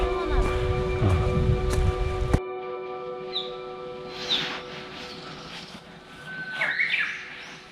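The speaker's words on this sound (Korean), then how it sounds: "바람 소리와 새소리에 저절로 마음이 차분해지는 한라산 둘레길의 습속." Birds chirp and sing in short, repeated calls among trees in a forest on the Hallasan trail on Jeju Island, with faint rustling and breezy background sounds.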